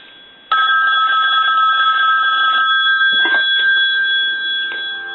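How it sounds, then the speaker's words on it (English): Bell of a red rotary dial wall telephone rings loud and close: a sharp start after a moment of quiet, then continuous metallic ringing that tapers slightly toward the end. "So we'll go ahead and ring the telephone"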